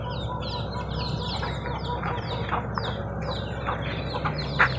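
Chickens, around ten hens kept at a rural Thai home in the evening, cluck and call in a steady busy chorus, with other birds chirping high above and a low background hum.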